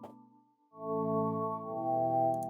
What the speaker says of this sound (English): So you can hear like this like bit crush effect that's being applied